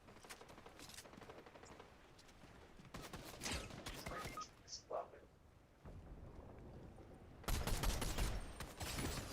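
Rapid bursts of gunfire from the video game Fortnite during an FNCS tournament match, dense volleys with loud sustained stretches near the end, while someone talks over the action.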